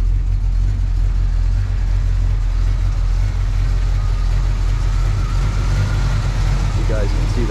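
A 1972 Buick Gran Sport Stage 1 V8 with an aggressive cam idles loudly and steadily up close, its deep rumbling lope continuous throughout with no talk over it.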